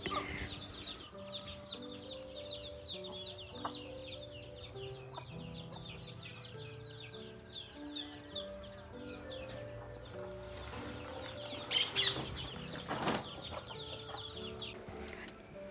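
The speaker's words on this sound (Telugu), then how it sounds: "చక్కగా పొద్దున్నే మాత్రం పక్షుల కిలకిల రావాలైతే ఎంత చక్కగా వినిపిస్తాయండి." Morning birdsong, with quick repeated chirps and some clucking fowl, sits faintly over a steady tonal background.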